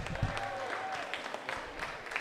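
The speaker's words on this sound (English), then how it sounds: "Another round of applause for Council Member Kasama Sawant, please" Brief burst of applause from an audience at a City Hall celebration of Indigenous Peoples' Day, a moderate patter of clapping with crowd murmur in a large room.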